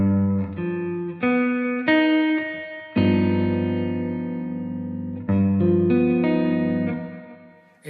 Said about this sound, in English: For example, a dominant chord with a flat 13th sounds like this.